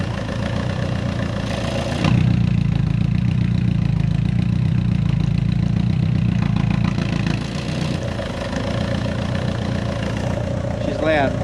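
Loud idle from a Subaru fitted with a custom exhaust that has exhaust leaks, a rough, rumbling drone up close that swells for several seconds before settling back, with a person talking over it throughout.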